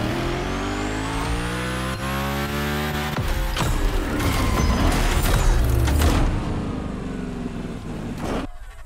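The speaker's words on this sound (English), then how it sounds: "Driving the mother of all Mustangs." Hoonicorn Mustang race car in The Crew Motorfest, its engine revving loud and close with rising whine, gear changes and tire squeal, holding steady for several seconds before cutting off near the end.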